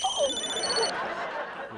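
A mobile phone rings with a bright electronic ringtone that cuts off abruptly partway through, with faint voices in the background.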